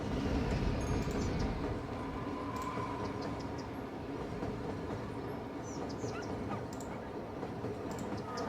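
Trains in the city-building game Cities Skylines rumble along a rail line as a faint, continuous rolling noise, with scattered small game clicks and chimes on top.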